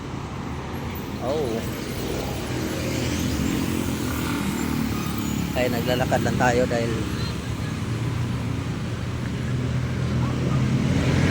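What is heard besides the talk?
traffic of many vehicles passing on highway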